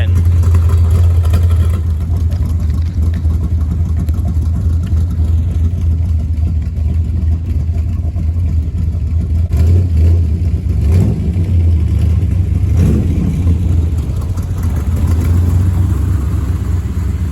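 A 1953 Bel Air gasser with a 305 engine runs steadily, its deep low rumble loud and continuous, swelling briefly with a couple of revs near the middle.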